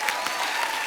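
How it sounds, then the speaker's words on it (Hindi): A dense burst of clapping from a television comedy show studio audience, steady and energetic throughout the short moment. "जोरदार तालियां"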